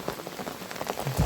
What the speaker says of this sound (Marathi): बारिश गिर रही है गाइस।